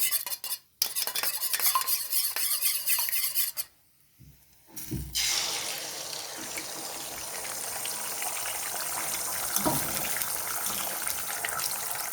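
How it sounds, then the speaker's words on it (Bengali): Eggs are beaten with a utensil in a bowl beside a wok of leftover cauliflower-frying oil, giving a busy clinking and stirring clatter that briefly stops and then resumes as steady whisking. Water noise runs in the background, and no one speaks. "এবারে কড়াইয়ে ফুলকপি ভাজার তেলটাতেই আমি ডিমটা দিয়ে দেব, ভালো করে ফেটিয়ে নিচ্ছি।"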